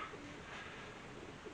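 Pigeons or doves cooing at an allotment in the early morning, a soft steady murmur of calls carrying from fairly close with no talking.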